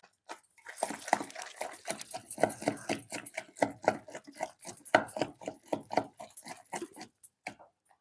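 Onions being coarsely crushed for chutney in a stone mortar, a close series of rhythmic thudding pounds and crunches, steady then tapering, with no voices.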